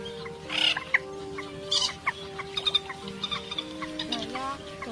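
A white-breasted waterhen gives repeated clucking, chattering calls, with several overlapping bursts in a steady stream over a sustained tonal background.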